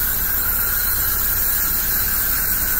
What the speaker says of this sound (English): Time to spray this place down.